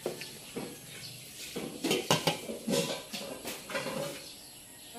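A metal pot lid clinks back onto a cooking pot of vegetables, with a few light clattering knocks and scrapes, close and fairly soft, no talking.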